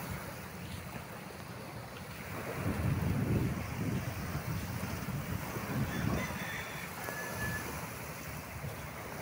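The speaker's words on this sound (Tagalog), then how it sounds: "Payapang-payapa ang alon." Gentle ocean waves at low tide off Ransuhan, Lucena City, wash in and out with a soft, steady rush, broken by light wind noise and no talking.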